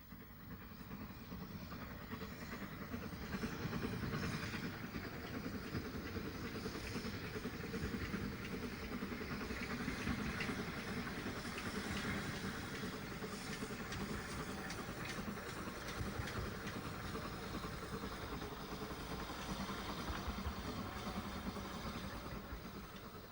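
An SECR P-class steam locomotive train running on the Kent and East Sussex Railway, a steady rolling rumble with rail clatter held at an even level throughout, no voices.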